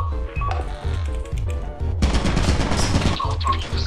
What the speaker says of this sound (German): Ich wurde angeschossen!